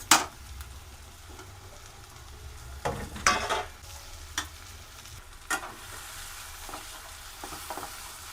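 Masala with chopped tomato frying in a pan for chicken curry, stirred with a spatula: a steady soft sizzle broken by several sharp scraping strokes, close by and without talk.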